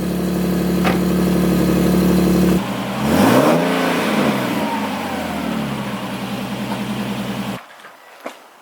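Stock exhaust on a Nissan 370Z Nismo, revving close by: a steady idle drone, then a rising and falling rev sweep that settles back to idle and cuts off near the end, sounding notably quiet.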